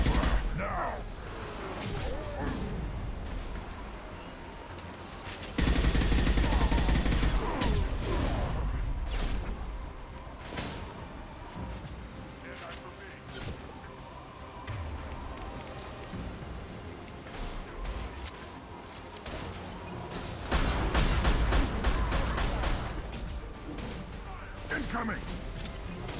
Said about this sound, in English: Bullet fire!